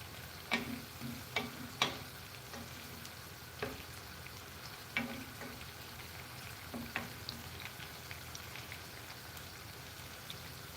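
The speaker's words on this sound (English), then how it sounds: "we are just sauteing these onions" Onions sautéing in an oiled pan, a steady soft sizzle with several sharp crackles and pops near the start that thin out into faint scattered spits. No one speaks.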